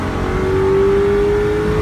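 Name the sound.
2002 Ford Thunderbird engine revved to redline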